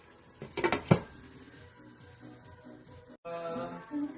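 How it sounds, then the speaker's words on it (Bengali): With the lid lifted off a pan of large prawns cooking down, a short burst of metal clatter and scraping from stirring comes first, then a quiet stretch and a faint shuffle near the end. "ঢাকনাটা উঠিয়ে এভাবে মাঝে মাঝে একটু নেড়ে দিতে হবে, তা না হলে নিচে থেকে লেগে যেতে পারে"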